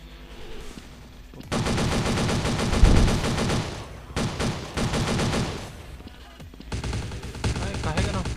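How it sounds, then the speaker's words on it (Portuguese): Rapid gunfire bursts in the video game Blood Strike, loud automatic volleys in three separate stretches, the middle one holding a heavier blast, with quieter gaps between. "Caramba, dois tiros."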